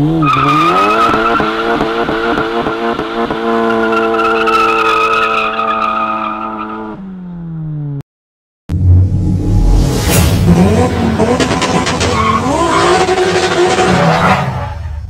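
A tuned Volkswagen MK7 GTI Stage 2 revs hard with loud rising engine notes and gear changes, a brief silence, then a sudden burst of aggressive acceleration with tire noise and roaring exhaust up close.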